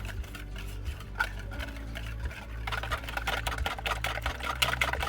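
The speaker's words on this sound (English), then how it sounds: "And now we mix it all together." Cinnamon and vanilla being mixed into a batch of ingredients, a steady run of soft scraping and clicking stir sounds under a low background hum, growing busier toward the end.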